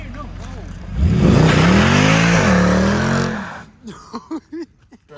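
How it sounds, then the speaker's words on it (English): Mercedes C63 AMG 507 Edition with traction control off doing a burnout, engine revving hard and loud for about three seconds with rising and falling pitch, then dropping away as people talk. "I do a quick little burnout."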